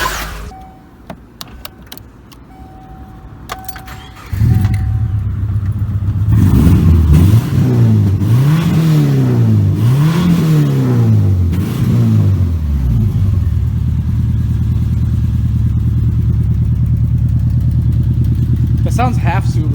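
A modified Subaru engine with an aftermarket header idles, then revs up and down several times in quick bursts before settling back into a steady, loud idle.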